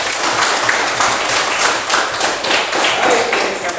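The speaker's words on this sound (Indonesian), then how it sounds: "mari kita berikan tepuk tangan yang meriah" A classroom group applauds during a Catholic religious education teaching session, with steady, dense clapping that holds throughout at close range and no one talking over it.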